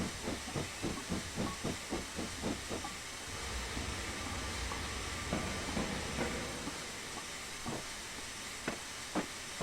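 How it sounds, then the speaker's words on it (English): A BR 4F steam locomotive in Train Simulator 2015 on the Western Lines of Scotland gives a rapid run of rhythmic chuffs, then a long steady steam hiss with scattered sharp bursts, close and fairly loud. "this loco is the BR4F"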